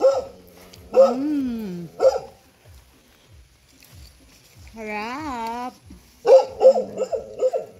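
A dog barks sharply in short bursts at a lansones-picking spot, with a couple of whining, rising yelps between, close by, while a person speaks briefly.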